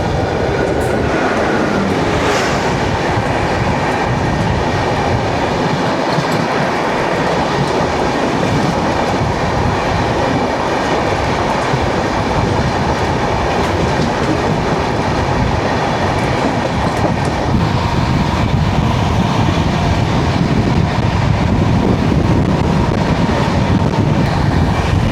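The 12860 Gitanjali Express rolls from Mumbai to Howrah, a loud, steady rumble of carriages with rhythmic clickety-clack over the rails and occasional faint wheel squeal, continuous throughout with no voices.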